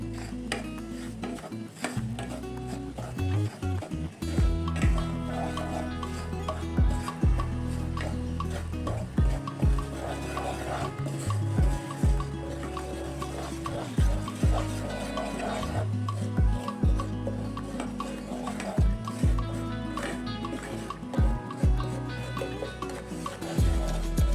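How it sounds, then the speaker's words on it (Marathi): Semolina and mung dal being sautéed and stirred in a pan for halwa, a steady close scraping and rubbing of a spoon against the pan with soft sizzle, repeated strokes throughout, no talk. "आणि सोबतच एक चमचा घेतलेला हा रवा याला व्यवस्थित परतवून घ्यायचं आहे"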